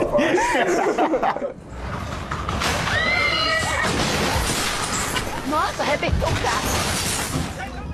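A horse neighs loudly in a viral clip, with several whinnies over noisy background commotion and some voices.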